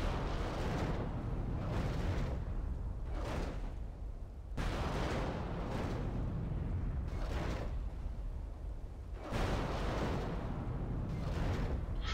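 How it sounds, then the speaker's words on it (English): Rockets or heavy bolts fire during a Total War battle with dwarf forces, a series of muffled, fairly quiet booms and whooshing blasts repeating every second or two over a low rumbling background. "You still got plenty of rockets left."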